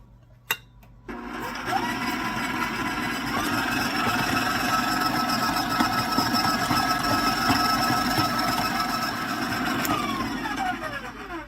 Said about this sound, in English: kind of help my mixer out by scraping the bottom with the rubber spatula